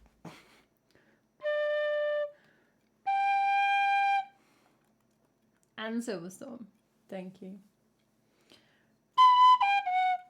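Clear, sustained tin whistle notes in an improvised melody: three held tones, each a second or more, separated by short pauses, with a person speaking briefly in between.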